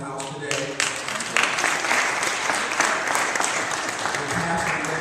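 A church congregation applauds steadily for the mothers and women present, a dense, loud wash of hand claps that carries on without pause, with faint voices mixed in.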